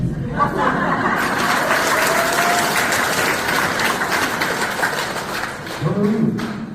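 Loud, sustained audience applause mixed with laughter at a live talk event, continuous clapping, with a voice rising near the end.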